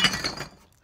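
Small ceramic little brown jug salt and pepper shakers clinking together as they are handled, a quick cluster of bright glassy taps up close that fades within a second.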